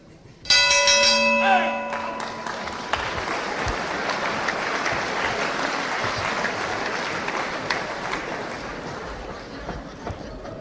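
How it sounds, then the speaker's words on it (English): A ring bell clangs loudly at the start of round one in a 1976 UK professional wrestling bout. It rings for a few seconds and then gives way to steady crowd applause and cheering. "Right on the bell now of round one."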